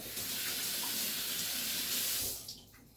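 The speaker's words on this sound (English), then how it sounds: "wash my hands" Hands are washed under a running tap: a close, continuous rush of water flows for over two seconds, then cuts off, leaving a few faint drips and quiet room tone.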